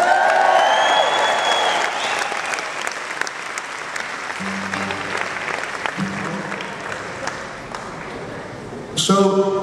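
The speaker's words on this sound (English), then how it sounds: "let's give a round of applause for them." Audience applause and cheering at a performance in a Mencap Little Noise Sessions venue with an echoey ceiling, loud and sustained, fading slightly over time, with scattered voices and a brief tonal hum partway through before a burst near the end.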